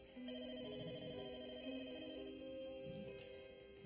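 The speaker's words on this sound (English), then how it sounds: "Until the phone rang." An office telephone rings with a trilling electronic bell, steady and clear for a few seconds before fading, heard alone against quiet room tone.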